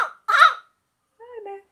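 A man imitates a crow's caw with his own voice, giving two short, harsh nasal calls close up with a clear pause between them in an otherwise silent room.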